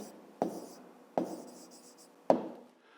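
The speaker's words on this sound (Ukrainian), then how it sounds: "Ну, а тепер записуємо відповідь." A pen or pencil writes an answer in a fifth-grade maths exercise, with three distinct scratching strokes, each starting with a sharp tap and trailing off, close and quiet, with no talk.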